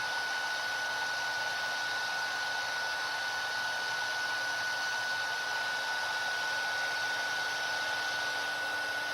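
A heat tool blows steadily on embossing powder to melt it into layers, a continuous fan-like whoosh with a faint whine that holds evenly for the whole stretch, close and alone without speech.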